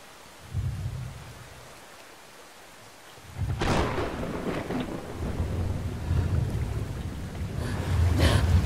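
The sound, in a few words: thunderstorm with lightning strikes in video game Brothers: A Tale of Two Sons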